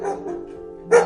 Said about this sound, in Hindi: अरे, ये कुत्ता इतनी जोर से क्यों भौंक रहा है?